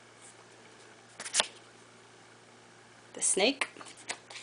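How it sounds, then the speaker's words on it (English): Lenormand fortune-telling cards shuffled by hand in two short bursts of papery riffling and slapping, separated by a quiet pause, close to the microphone; a voice speaks briefly. "I'm going to shuffle them up"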